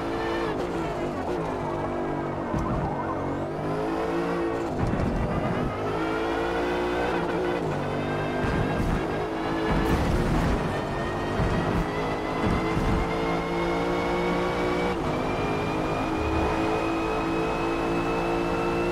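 A race car engine in Forza Motorsport roars continuously, loud and close, revving up and down through gear changes with brief tire squeal, sustained throughout with no talk over it.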